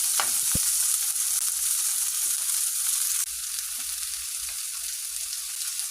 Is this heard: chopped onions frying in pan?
yes